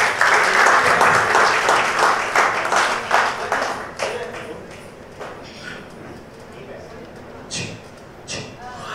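Audience clapping for a lyricist at a film music event, loud applause at first that thins and fades over several seconds.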